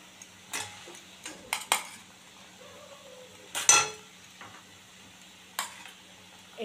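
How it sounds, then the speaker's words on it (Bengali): Potatoes going into boiling curry in a pot, heard as a few scattered sharp clinks and knocks of a utensil against the pot over a quiet background. "আমার এখানে ঝোলটা ফুটে গেছে, আমি এবার আলুগুলো তুলে দিচ্ছি"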